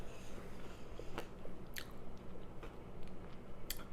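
Someone bites into and chews crunchy cranberry pistachio biscotti up close, with a few sharp crunchy snaps over soft, continuous mouth noise.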